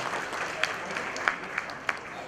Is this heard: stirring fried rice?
no